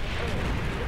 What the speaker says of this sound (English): Who the freak is shooting that?